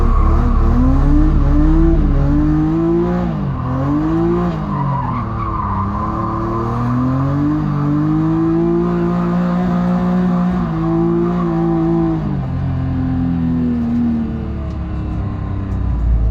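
A drift car on a wet-to-dry night drift course revs hard on throttle, engine pitch sweeping up and down continuously with tire squeal, loud and close for the whole stretch.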